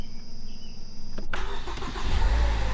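A Ford Focus ST with a newly fitted Spec Stage 2 clutch kit cranks and fires after a faint electrical whine, catching quickly and settling into a loud, close, low engine rumble with no talk over it.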